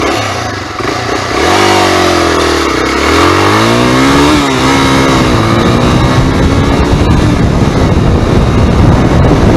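A Honda NX 250 dirt bike pulls away and accelerates hard, its close, loud engine note climbing through the revs with a dip at a gear change, then roaring on under heavy wind noise.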